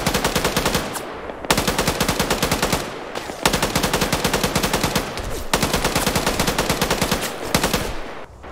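Sustained automatic gunfire in a video game firefight: loud, rapid machine-gun bursts run almost continuously, broken by a few short pauses, with no talk over them.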